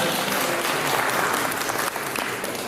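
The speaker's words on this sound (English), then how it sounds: "Give him a round of applause." Steady applause from a crowd, sustained and fairly loud throughout, with no break in the clapping.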